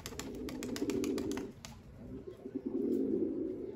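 Young racing pigeons coo outdoors in soft, repeated rolling phrases at close range, with a brief pause midway before the cooing resumes.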